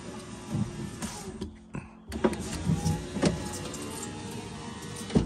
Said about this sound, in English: check while the window's going up and down that these cables are out the way of the window